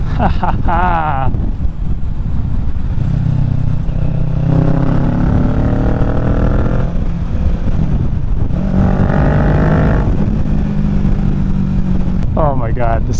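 Yoshimura Alpha exhaust on a 2023 Kawasaki Ninja 650 revving in heavy traffic, harmonic engine drone rising and falling in two long pulls, loud and close with wind buffeting, while a rider talks over it.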